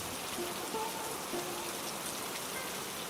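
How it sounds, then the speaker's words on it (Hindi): Heavy rain pours down steadily, a dense, even hiss of drops striking surfaces that continues without pause from start to finish. "तेज बारिश हो रही थी।"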